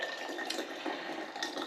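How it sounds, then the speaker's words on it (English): Boiling water poured over cinnamon and hibiscus tea, a continuous splashing liquid hiss filling a vessel, close and moderately loud, with no talk. "Then all you need to do is cover it with boiling hot water,"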